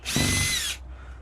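A power driver spins a Torx 25 bit to back out a screw on the fuel filter of a 2010 Mercedes Sprinter, a single close, high whir lasting under a second before it stops.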